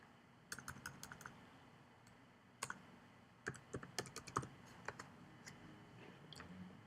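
Fingers type on a computer keyboard in short, uneven bursts of light clicky taps separated by pauses, fairly quiet and close, with no voices.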